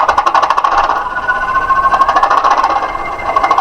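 A model Class 20 diesel locomotive's sound chip (Loksound 5) plays an idling engine with a steady, loud rumbling drone and rhythmic chugging pulses, no voices.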